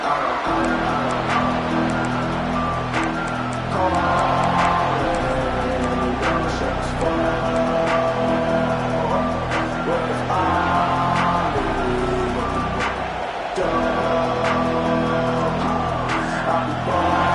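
A stadium crowd in the CFB 26 college football video game keeps up a loud, steady roar for the whole stretch, with band-like tones and bursts layered in.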